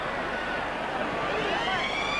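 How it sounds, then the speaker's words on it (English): Stadium siren sounding at half-time of a rugby league match between the Newcastle Knights and New Zealand Warriors at Marathon Stadium, a faint rising wail over a dense crowd roar. "And there is the siren to end 40 minutes of entertaining rugby league here at Marathon Stadium."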